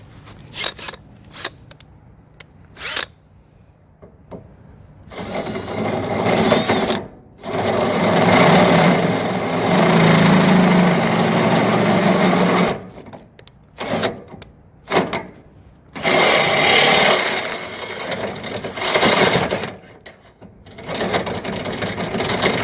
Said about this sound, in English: So I have to drill out this hole and this hole a little bit bigger